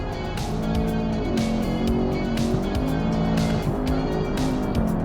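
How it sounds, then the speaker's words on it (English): A car engine in BeamNG stutters and cuts out repeatedly as traction control intervenes, with loud revving, tire squeal and wheelspin throughout. "You can hear the engine just cutting all the time."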